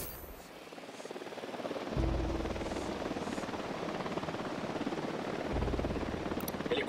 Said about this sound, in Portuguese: Helicóptero a caminho.